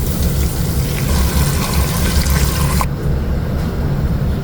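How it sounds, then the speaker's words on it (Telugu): Water gushes steadily into a cooking pot for a few seconds, then abruptly cuts off. "ఇప్పుడు నేను దీంట్లో టెన్ గ్లాసెస్ వాటర్ యాడ్ చేసుకుంటాను"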